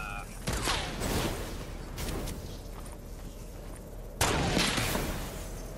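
Non-stop gunfire in a shooter video game, rapid bursts of shots with a heavy burst near the end, while a player talks over the firing.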